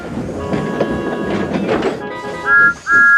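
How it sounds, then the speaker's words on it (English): A wooden toy railway engine gives a sharp whistle, two shrill blasts near the end, over a continuous hissing steam wheesh and rolling clatter. "Any party talk was lost in the sound of whistles and wheeshes."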